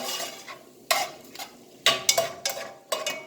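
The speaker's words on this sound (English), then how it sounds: "Nothing like smelling some good onion being sauteed in a skillet along with garlic." Onion sautéing over high heat in a skillet, with a steady soft sizzle beneath several sharp clinks and scrapes of a utensil stirring against the pan, close by.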